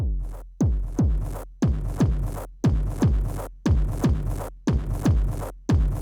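Clean kick drum from a Mandrake modular drum module, a run of deep punchy booms with falling pitch repeating at a steady, roughly even pace, each hit decaying before the next, with no voices.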